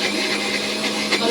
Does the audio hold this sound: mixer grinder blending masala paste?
yes